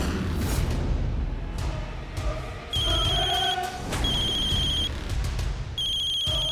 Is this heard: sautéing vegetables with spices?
no